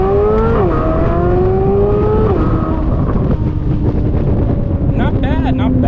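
A C8 Z06 Corvette fitted with a Soler throttle body pulls under partial throttle, its engine note rising in pitch through a quick run with wind buffeting, loud and close.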